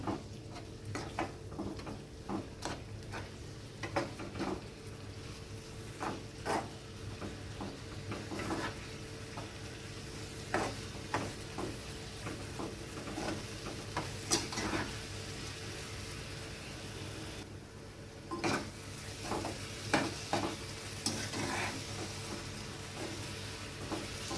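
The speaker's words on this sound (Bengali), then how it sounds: "মোচার পেস্টটা দিয়ে দিয়েছি, এবার ভালো করে আমি খুন্তি দিয়ে নেড়ে নেব।" Banana flower paste being stirred in a frying pan with a spatula: repeated scraping and knocking strokes against the pan at an uneven rhythm, over a faint background hiss, moderately close.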